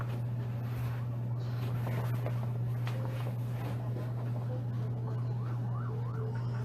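An ambulance siren wails along a street in Las Vegas, its rising and falling tone faint and distant over a steady low hum, with some background noise throughout.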